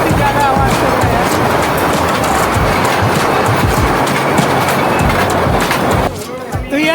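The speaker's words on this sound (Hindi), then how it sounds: "तो गाइस हमारी टॉय ट्रेन चलनी स्टार्ट हो चुकी है और हम लोग चल रहे हैं एलिफेंटा केव की ओर। बहुत ही ज़्यादा आवाज़ चल रहा है।" Toy train running toward the Elephanta Caves near Mumbai, a loud steady rumble and clatter of carriages continuing throughout, close by, with a sudden drop in volume near the end.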